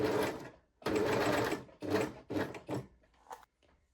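A sewing machine stitches bikini bottom fabric in several quick whirring runs separated by short pauses, close and steady.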